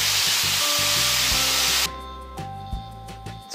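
Zucchini frying in a pan with pressed garlic, a loud, steady hissing sizzle that drops abruptly to a quieter crackle partway through, with a few clinks and stirring sounds.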